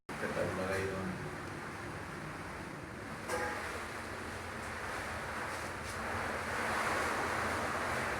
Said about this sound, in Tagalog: Lakas pa rin ano, bayo ng hangin sa labas.